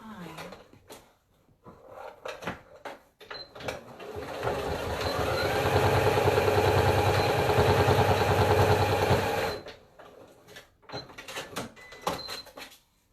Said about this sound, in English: So I want to stitch it one more time because I feel like it's still not tight enough.